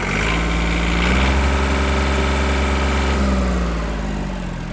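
A Yanmar F-210 three-cylinder Japanese mini tractor engine runs close by, its idle rising in pitch as the revs climb, then easing back, loud and steady with no talk.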